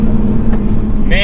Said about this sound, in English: The B58, so smooth, great power delivery.